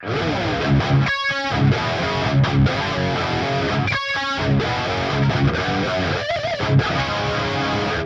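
Loud electric guitar through a Mixwave Spiritbox amp sim with a wavering, shimmering chorus effect plays chords, with a few brief breaks between phrases and no voices.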